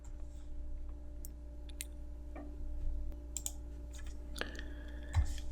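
Sparse, light keystrokes on a computer keyboard while entering expressions into wxMaxima math software, a handful of quiet, separate clicks over a low steady hum with no voices.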